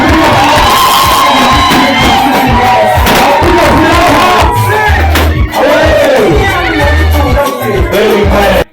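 Wedding guests cheering and shouting as a loud crowd, a dense continuous roar of voices with whoops and ululation-like cries sustained throughout before cutting off at the end.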